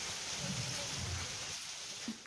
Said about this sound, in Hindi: भरतपुर में झमाझम बारिश का दौर जारी है